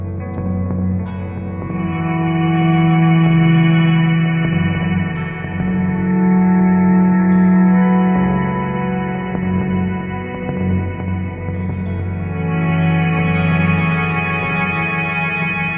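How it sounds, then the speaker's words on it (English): Sustained synth-like guitar tones from a Mel 9 effects pedal swell and fade in layered echoes, a lush, reverberant drone with repeating overlapping notes and no talking. "So now I've got multiple layers of echo going"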